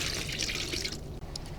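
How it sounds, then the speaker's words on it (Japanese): Water pours steadily into a portable washing machine inside a used camper van, a soft, continuous splashing fill at low volume, with a faint knock near the end. "それではお水入れていきます"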